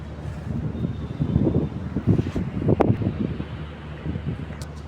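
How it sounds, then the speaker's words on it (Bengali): Strong gusty wind blowing across a rooftop where laundry is hung to dry, a steady rumbling roar with louder surges, close and buffeting against the microphone throughout. "অনেক বাতাস"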